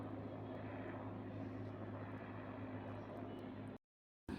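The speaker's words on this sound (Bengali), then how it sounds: "কত সামনে দিয়ে হেলিকপ্টার যাচ্ছে দেখো" A helicopter passes close by overhead, a steady, loud rotor and engine drone with a low hum that holds evenly for several seconds before cutting off abruptly near the end.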